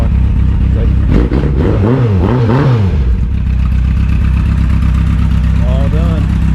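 A 1985 Yamaha FJ1100 motorcycle engine running as it warms up, a steady low drone throughout with someone talking over it for the first few seconds.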